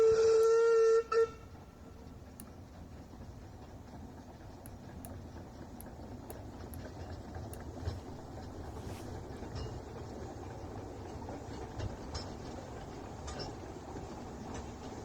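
Freight train on the Statfold Junction railway, opening with a short whistle blast, then a low steady rumble of rolling stock with light clanks and ticks, fairly quiet and distant-sounding, no talking.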